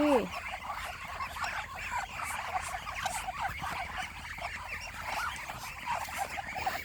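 A flock of ducks calls at night, a dense, overlapping chorus of close quacking and honking that carries on without a break from start to finish.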